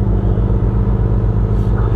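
A sport motorcycle engine idles loud and close, thumping in a fast regular pulse over a deep exhaust rumble. No one speaks.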